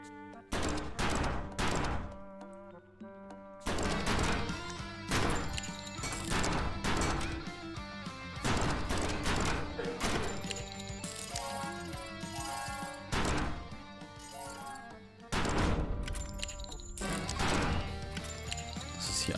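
Rapid gunfire in the Trigger Witch video game crackles in dense, loud bursts of sharp shots over busy game music, with a couple of short pauses between volleys.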